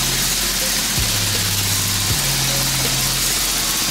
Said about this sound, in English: Pardon the noise. Boy, working over here, got the frame machine.